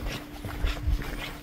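Village dogs bark in a short burst of repeated barks in a quiet seaside countryside village, heard at moderate distance.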